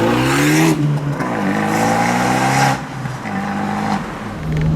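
An Abarth 124 Spider revs hard through its raspy exhaust, a loud close engine climbing in pitch, dropping, then rising again in repeated bursts.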